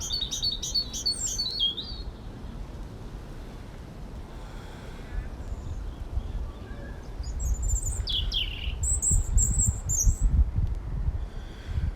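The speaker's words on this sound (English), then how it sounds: "And I can hear birds, which is lovely." Birds chirp and trill in bursts, some close and clear, over a steady outdoor rumble of wind and distant traffic along Willow Walk, Oxford, in March.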